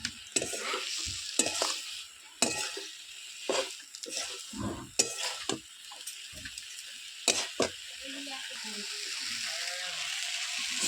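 River fish sizzles in hot oil under repeated sharp scraping and knocking as a spatula stirs the pan at close range.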